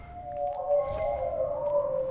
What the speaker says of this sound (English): Oh, sad wolf noises.